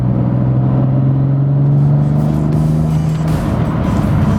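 A BMW F80 M3 fitted with Pure Turbos accelerates hard down a short straightaway, giving a loud, close, steady engine drone with deep rumbling undertones that hold for several seconds, with no talking.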